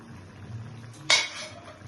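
A cooking-pot lid is lifted off a simmering paneer curry with poppy seed and sesame: one short, bright metallic clink stands out, then a fading rattle over a quiet kitchen hum.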